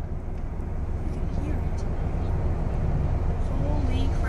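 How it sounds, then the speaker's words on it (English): A strong tornado gives off a steady, low, jet-like roar, a dense broadband rumble that holds constant throughout, with faint voices mixed in. "You can also clearly hear the jet-like roar from the tornado"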